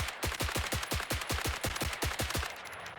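Rapid automatic gunfire from a weapon fired in BRM5 without recoil control, a steady string of about fifteen sharp, evenly spaced shots over a few seconds, loud and close with no talking.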